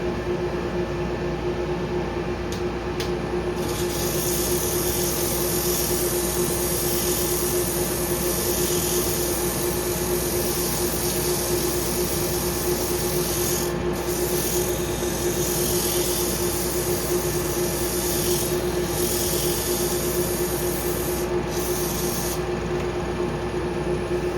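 Power sanding of a small cherry wood bowl with 120 grit sandpaper, a loud continuous hiss and motor whine with a steady tone that barely changes, with a few brief dips in the abrasive rasp.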